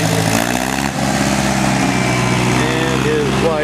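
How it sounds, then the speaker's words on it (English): A mid-1970s 444 utility tractor engine runs steadily and fairly loud with a low, even drone, while voices and other outdoor sounds from a tractor show mix in underneath. "Nice little utility tractor from the mid-70s."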